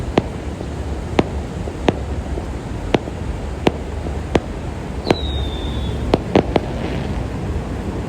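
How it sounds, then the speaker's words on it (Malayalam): Firecrackers burst on Patong beach at night, about a dozen sharp cracks at irregular intervals over steady wind and crowd noise, with a brief whistle of a rising rocket partway through. "അവിടെ തോണ്ടേ പടക്കം പൊട്ടിച്ചുകൊണ്ട് നടക്കുവാണ്"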